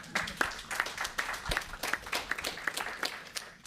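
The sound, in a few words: audience applause at conference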